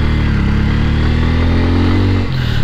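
A Bajaj N160 motorcycle engine revs loudly and close, holding a rising, steady growl before dropping off sharply near the end, with no talking.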